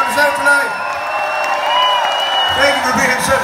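At the close of a live bluegrass concert, a crowd cheers and whoops in a steady, fairly loud wash, while a performer speaks over the noise.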